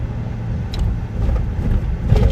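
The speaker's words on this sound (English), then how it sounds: "I'm in traffic on 694" A car rolls through highway traffic on Interstate 694, a steady broadband road and engine rumble with no voices.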